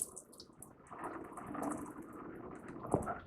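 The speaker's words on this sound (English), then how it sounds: "Now I like to drain my chicken before I put it in there." Water from a can of chicken chunks drains out in a soft, steady trickle and splash for a few seconds, fairly quiet, with a slightly sharper splash near the end.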